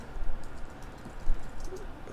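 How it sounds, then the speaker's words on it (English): Typing on a computer keyboard, a steady patter of soft key clicks at close range over a low background hiss, with no one speaking. "Sorry, you're gonna hear typing."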